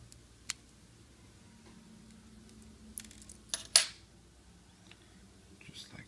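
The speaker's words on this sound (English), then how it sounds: "And let the two screws fall out." Tiny screws drop out of an N scale Kato Pennsylvania U30C locomotive being cleaned, giving a few faint, scattered clicks and one sharper metallic tick against a quiet background.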